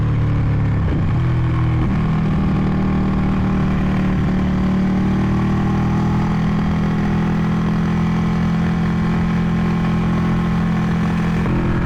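A Ducati 899 Panigale sport bike's engine drones steadily while riding on a highway in sixth gear at about 5,000 RPM, a continuous low hum with a brief dip in pitch near the start.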